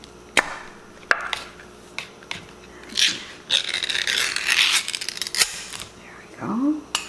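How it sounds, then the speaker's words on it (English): A can of SPAM being opened up close: sharp metallic clicks and pops, then scraping and rasping of the lid and tin, a few bursts louder than the rest. "I'm going to open our spam."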